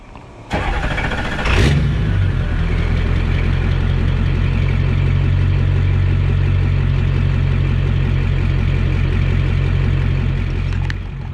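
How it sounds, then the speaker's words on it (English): A 2003 Ford E350 van with a 7.3-liter Powerstroke diesel cold-starts with a brief crank, then catches and settles into a loud, steady rumbling idle close by, running alone for about ten seconds. "now the moment you've been waiting for is a cold start of a 2003 Ford E350"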